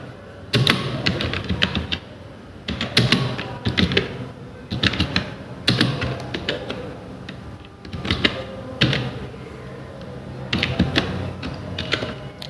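Typing an address on a computer keyboard while entering party details in Tally Prime: clusters of close, clattering key presses in irregular bursts with short pauses, no talk.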